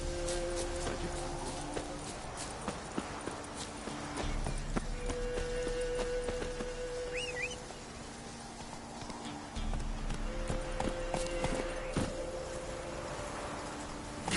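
Roach the horse gallops in Witcher 3, its hooves beating a steady, continuous clip-clop rhythm at moderate volume alongside a soft game soundscape.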